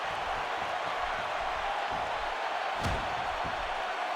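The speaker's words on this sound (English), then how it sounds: "You can hear the crowd this evening fully behind DX" A virtual arena crowd roars steadily throughout a WWE 2K16 tag team wrestling match, a dense, continuous wash of cheering with a single thud partway through.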